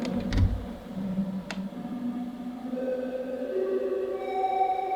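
Modular synthesizer tones glide and shift slowly in pitch over a low drone, a random signal modulating the wave speed, with a couple of sharp clicks near the start and no talking.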